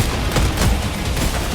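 Dense barrage of rocket and weapon fire in the Helldivers video game, a steady roaring wash of blasts and booms with no clear gaps, loud and close throughout.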